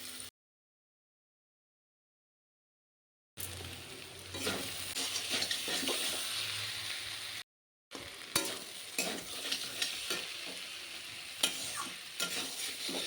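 Crushed garlic cloves frying in hot oil while cooking dried fish, bursts of crackling sizzle with stirring scrapes, broken by two short silent gaps, close and fairly loud.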